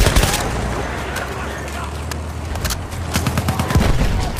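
Enemy machine gun fire in the Battlefield 1 video game: sustained loud bursts of rapid gunfire with sharp cracks, layered with distant battle booms and intensifying toward the end.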